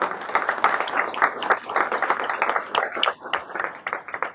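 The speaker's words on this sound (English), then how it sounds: "Let's give Julie a round of applause." A small audience claps at an education recognition event, with uneven individual claps audible in a short, fairly close burst.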